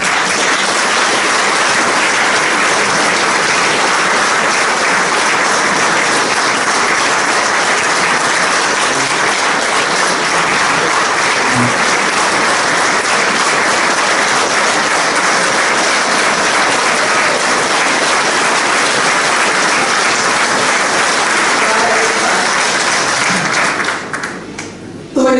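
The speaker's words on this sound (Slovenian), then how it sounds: "Ko slišim ta aplavz, vem, da bomo zmogli." A large crowd at a hotel anniversary celebration applauds loudly and without a break for over twenty seconds, the dense clapping fading only at the very end.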